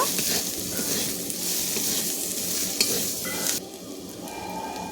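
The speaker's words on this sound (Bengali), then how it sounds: "হলুদের গুঁড়ো দিয়ে মশলাটাকে আবার ভালো করে আমি ভেজে নেব" Spice paste with chili and turmeric fries in a pan for a prawn and ash gourd curry, giving a loud, dense, continuous sizzle with stirring scrapes. The sizzle drops in intensity partway through, and no voices are heard.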